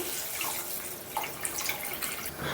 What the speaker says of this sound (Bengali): ওটা জল দিদি একটু তরকারিটাতে জল দিয়ে দিচ্ছি